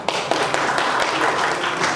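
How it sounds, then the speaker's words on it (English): An audience at a Nepalese community gathering in Penshurst breaks into steady applause, a thick wash of many hands clapping with a few sharper claps standing out, fairly close and unbroken. "give him a big round of applause for his great contribution"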